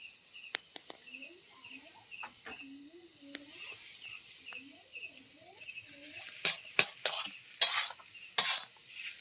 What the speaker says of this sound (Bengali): আলু চোখাটাকে ভালো করে নাড়াচাড়া করে ভেজে নেব